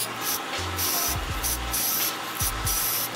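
Spray paint hisses through a Krewline 210 stencil cap in a steady, close stream, with brief spitting bursts at the start and a few short gaps between passes.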